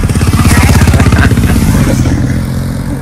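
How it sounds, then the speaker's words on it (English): Motorcycle engines rumble loudly close by with a pulsing, revving beat and some clatter, holding steady then easing slightly as they pass in an outdoor riding spot. "Real motorcycles."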